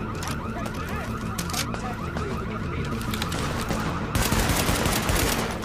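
Video game gunfire in The Division pours out as a loud, continuous automatic barrage, with dense overlapping shots that get even heavier near the end.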